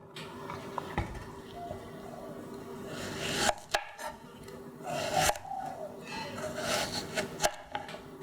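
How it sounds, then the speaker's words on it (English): Knife cutting through cucumber and tomato on a board while preparing Balinese-style tilapia fish stew, a few sharp chopping strokes and rubbing scrapes at close range with quiet gaps between. "Now let's slice the cucumber and tomato."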